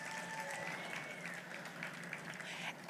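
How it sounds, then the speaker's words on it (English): An auction audience at a winter charity gala applauds, a dense steady patter of many hands clapping at moderate distance for a few seconds. "Let's give him a big round of applause."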